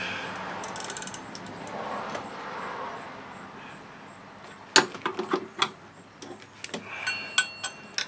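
Ratchet wrench loosening a bolt on the engine of a 2009 Buick Lacrosse during intake manifold and timing cover gasket work, heard as a run of sharp, uneven metallic clicks close by after quieter mechanical shuffling.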